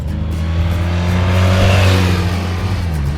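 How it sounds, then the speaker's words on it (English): A 1993 BMW R100GS Paris Dakar airhead boxer motorcycle engine revs up loudly nearby, its pitch climbing and falling over a few seconds with a throaty rumble; no talking. "Love the sound of the airhead engine."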